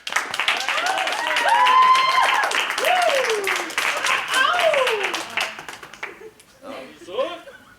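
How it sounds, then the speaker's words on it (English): A slam poetry audience applauds and cheers for poet Alison, loud sustained clapping with whoops and shouts, thinning out toward the end. "Round of applause!"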